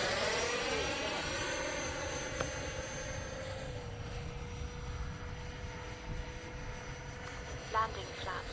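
An X-Fly Alpha RC jet airplane drones continuously overhead, its steady whine shifting slowly in pitch as it passes, with someone talking faintly beneath it.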